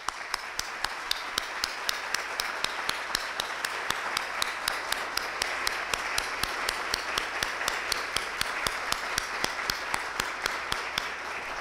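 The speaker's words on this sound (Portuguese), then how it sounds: "vai expressar essa satisfação, esse reconhecimento por uma salva de palmas" An audience at a lecture applauds the speakers with steady, even clapping throughout, moderately distant and fairly quiet, with no voices over it.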